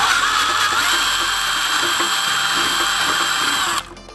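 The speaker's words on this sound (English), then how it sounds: "we're gonna be drilling into carbon" A power drill bores steadily into carbon, a loud, continuous high-pitched whine that holds for nearly four seconds and then cuts off abruptly.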